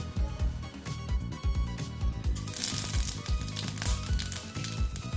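Panch phoron spices crackle and sizzle in hot oil for a vegetarian Bengali chal kumra dish, a quiet, continuous spatter of small pops close by.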